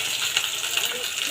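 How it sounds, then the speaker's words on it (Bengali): Chopped onions sizzle in hot oil in a pan while an egg curry is being cooked, making a steady, bright hiss with faint crackles that holds at an even level throughout. "এখন ভাজা হবে"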